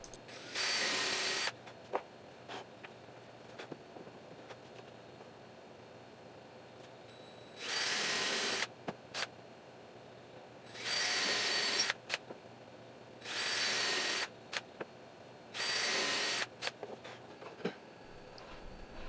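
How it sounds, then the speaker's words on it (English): Power drill boring pivot holes through a wooden fretboard radius jig board, running in five separate bursts of one to two seconds each, with quiet gaps and small clicks in between. "Then the pivot board can be placed on its side and the pivot holes drilled according to the plans"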